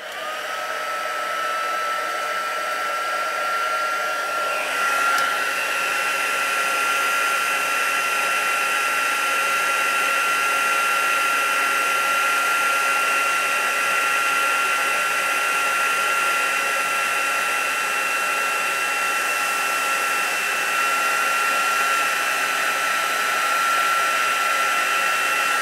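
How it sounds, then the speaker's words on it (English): A crafting heat tool blows steadily and loudly, heat setting embossing powder on a handmade shaker card, with a continuous whirring, hissing drone that holds unbroken for the full length, alone without talk. "Now I'm going to let my heat tool run for a few seconds to start off with."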